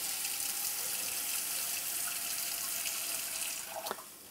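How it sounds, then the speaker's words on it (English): Water splashing and hissing steadily onto a hot Hexclad 10-inch hybrid pan, a loud, close, continuous rushing spray with a few small splashes near the end. "let's just throw some water on there"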